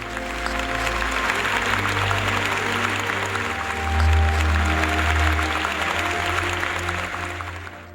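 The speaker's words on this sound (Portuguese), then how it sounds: "Jonatas Piriquiel, a quem eu peço uma salva de palmas e vou dizer por quê." Applause from the audience at a municipal guard graduation ceremony in Curitiba, steady clapping over a low droning hum from the hall's sound system, with a brief swell midway.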